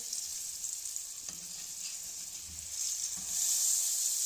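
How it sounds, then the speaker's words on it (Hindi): Homemade chicken nuggets shallow fry in a pan, a steady bright sizzle with faint stirring clicks that grows a little louder toward the end, with no talk. "जी नगर्स को ना शैलो फ्राई करना है।"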